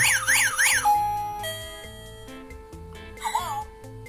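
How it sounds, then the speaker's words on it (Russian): Electronic alarm tones from a wireless smart doorbell in alarm mode sound alone: a rapid warbling siren, then a series of steady beeping notes, with another brief warble near the end. "Это вот режим сигнализации."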